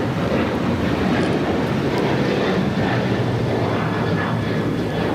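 Japan Airlines Flight 69 heading to Osaka roars at Los Angeles airport as a continuous, broad jet rumble with wind buffeting, steady and fairly loud throughout.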